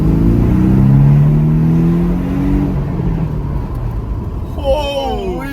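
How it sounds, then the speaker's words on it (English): Porsche Cayman S accelerating hard from inside the cabin, the engine note rising loud and steady before easing, with brief pops between gear shifts and a voice speaking over it near the end. "Gonna hit a bit of acceleration here, mate. All the pops between shifts."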